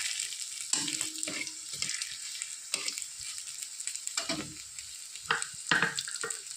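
Dal tempered in hot oil with radhuni and bay leaf, giving a steady soft sizzle under faint clinks and stirring scrapes, close by and fairly quiet.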